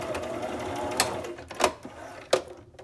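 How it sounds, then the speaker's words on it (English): A sewing machine runs steadily, with a few sharp clicks and knocks from the mechanism breaking through the continuous whirring. "I love doing the little messy stitch."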